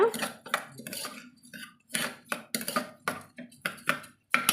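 Soaked rice stirred through ghee and mint in a cooking pot for ghee pudina rice, with a spoon scraping and clinking against the metal in uneven, rhythmic strokes and short pauses, and no voices.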